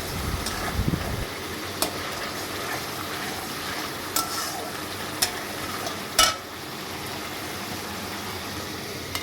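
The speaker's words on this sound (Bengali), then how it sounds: "মশলাটাকে এইভাবে ভালো করে কষিয়ে নেব যতক্ষণ মশলা থেকে তেল না ছাড়ে।" Masala for mutton curry fries in oil in a pan, a continuous close sizzle with occasional knocks and scrapes from the stirring spoon.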